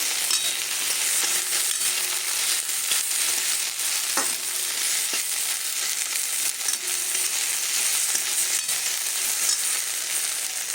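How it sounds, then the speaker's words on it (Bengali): Young, tender okra (bhindi) fries in a pan in a home kitchen, giving a steady, close, even sizzle that crackles throughout with a few faint clicks and stirs and no talking. "ভেন্ডিটা গল্প করতে করতে ভেন্ডিটা ভাজা হয়ে গেল প্রায়।"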